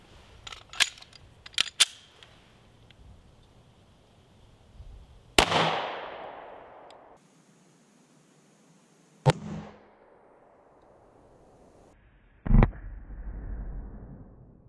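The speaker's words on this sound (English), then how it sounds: "next one we're shooting, Buffalo Bore" Buffalo Bore 115-grain 9mm rounds are fired into ballistics gel outdoors: a few small clicks, then three loud, sharp reports several seconds apart, each ringing off and decaying.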